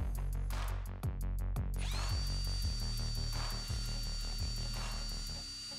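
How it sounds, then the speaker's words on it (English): A power drill bores holes into an electric guitar body to mark out the Floyd Rose tremolo cavity for the claw and springs, a loud steady motor whine with repeated short bursts and pauses between holes. "I'm drilling holes right inside there, so that way I know where my cavity for the claws and the springs need to be."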